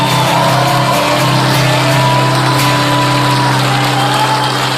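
A comedy-show audience gives a round of applause. The clapping is loud and continuous, like a wash of noise, with a steady humming tone under it.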